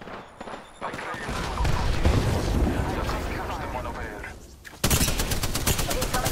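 Rapid gunfire crackles through a gunfight in the Apex Legends video game, with dense overlapping bursts that swell and fade, then a sharper, louder burst near the end, all over busy game noise.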